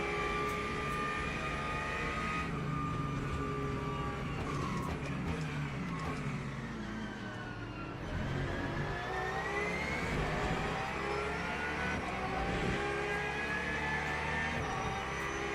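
Race car engines, including a Porsche and a Mustang, whine and rev continuously in Le Mans Ultimate, pitches rising and falling through gear changes, with another car's engine sweeping past midway.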